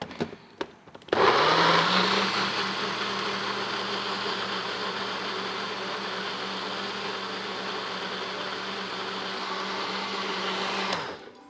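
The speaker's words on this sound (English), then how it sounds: "So we're just going to blend it up" After a couple of clicks, a blender roars to life blending a green smoothie, a loud steady whir held for about ten seconds before cutting off abruptly.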